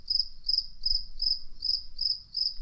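Crickets chirp in a steady, regular pulsing rhythm, about three trills per second, clear and close against a quiet background.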